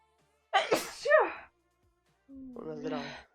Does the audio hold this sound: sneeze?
yes